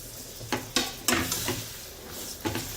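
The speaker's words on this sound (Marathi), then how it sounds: "आता आपण जो हा पोटा उकडून ठेवलेला आहे तो टाकून घ्यायचा आहे" Boiled tripe stirred into masala in a frying pan, a steady sizzle broken by several sharp scrapes and clinks of a spoon against the pan, close and alone with no talk.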